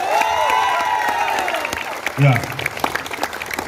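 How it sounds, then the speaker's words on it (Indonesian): Students and police officers at a campus gathering clap under ongoing speech. The applause is moderate and continuous, and a voice briefly says a short word. "Tepuk tangan."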